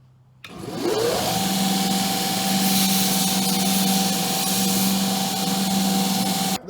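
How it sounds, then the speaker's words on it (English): A sanding wheel spins up and runs steadily while finishing a handmade landscaper-style weapon in a workshop, a loud sustained motor whine with a steady hum, starting after a brief pause and continuing unbroken. "We're going to go ahead and finish this thing out on our sand wheel right here."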